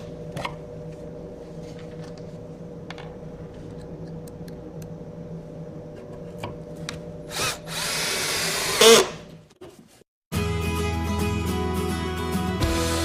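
A power drill drives pocket hole screws through table aprons into a wooden tabletop, giving loud close whirring bursts, with quieter workshop handling sounds before them.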